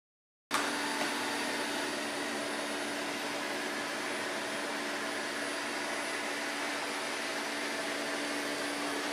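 A Eureka E10s robot vacuum cleaner starts suddenly and keeps running with a steady, fairly quiet whir and faint whine for about nine seconds, alone with no talking.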